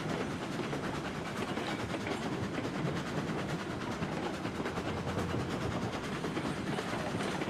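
Locomotive running light in the Railroads Online game, a steady continuous rumble with faint rhythmic clatter at an even level throughout, with no talk.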